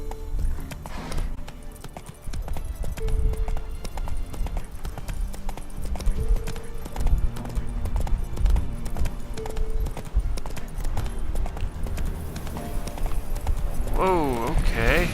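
A horse gallops with steady, close clip-clopping hooves through The Witcher 3 video game, running under continuous game music with a player talking over it.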